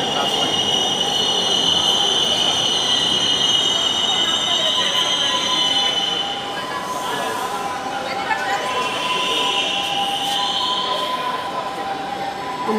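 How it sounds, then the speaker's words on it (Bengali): A Dhaka metro rail train pulls into the station, its wheels giving a steady metallic squeal and hum over platform ambience for the whole stretch, easing slightly toward the end. "এই ট্রেনটি চলে এসেছে। এই ট্রেনটি আগারগাঁও যাবে।"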